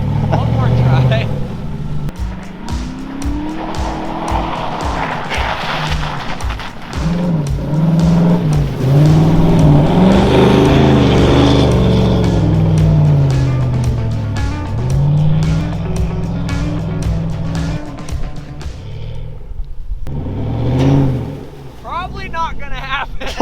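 An old red Chevy truck's engine revs hard as it tries to back out of deep snow, rising and falling in loud sustained surges, with voices talking over it and a short pause before the engine roars up again.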